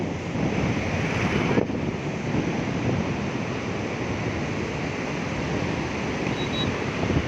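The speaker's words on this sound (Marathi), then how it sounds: "पुलाच्या खालून पाणी येते बघा" Continuous rushing of a river flowing under a bridge, broad and steady throughout, mixed with wind buffeting the microphone.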